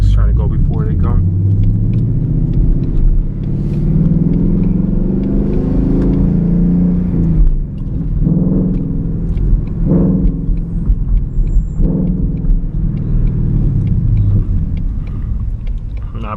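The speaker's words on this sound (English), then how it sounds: "I need to take the resonators off this car to make it sound like a little bit louder" 2020 Ford Mustang 5.0 V8 with its resonators removed and the muffler deleted, driving at night with a steady, loud, deep exhaust rumble that swells slightly as it pulls away. Someone talks over the engine throughout.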